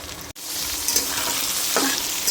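Chicken hearts and livers go into a pan of fried onions and hot oil, giving a loud, steady sizzle after a sharp click at the start.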